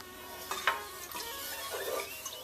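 A spoon stirs a coconut milk dessert with corn and cinnamon in a pot on a stovetop, giving soft, close scraping and swishing strokes with light clinks over a faint low hiss.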